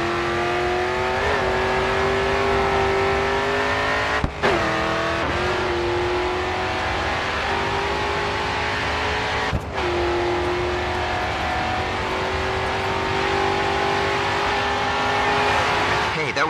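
Race car engine in the GRID 2 racing game revving hard and accelerating down the final straight, a loud continuous rising engine note with two sharp gear-shift dips, steady and close throughout.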